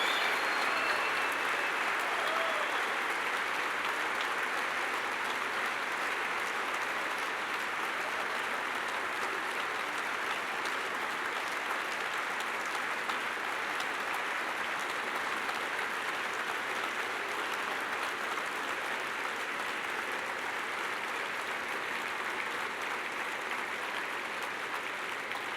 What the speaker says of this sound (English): please join us in a round of applause for all the 2015 recipients of the United States Naval Academy Alumni Association's Distinguished Graduate Award